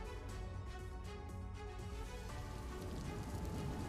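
Monsoon rain falls steadily in Gir forest in Gujarat, a dense, constant hiss of drops on surfaces at moderate volume, unbroken for the whole stretch, with no voices.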